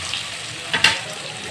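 Pieces of elephant foot yam (suran) drop into hot oil in a kadhai, giving a brief burst of close sizzling and hissing over a low crackle.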